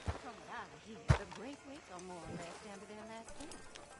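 Horse hooves clip-clop in a western video game on PS4, a soft rhythmic plodding under a character's dialogue, with a sharp knock near the start.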